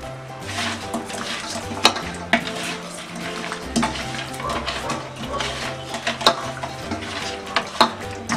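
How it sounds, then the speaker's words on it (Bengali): Koi fish pieces are mixed with salt and turmeric in a large vessel, making close, steady wet rubbing and scraping sounds with scattered clinks and taps. "দিয়ে আমি নুন দিয়ে আর হলুদ দিয়ে ভালো করে মাছগুলো মেখে নিচ্ছি।"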